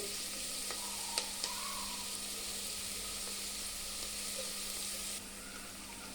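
Onions fry in a pan with a continuous, fairly quiet sizzle and a few faint stirring clicks, with no talking.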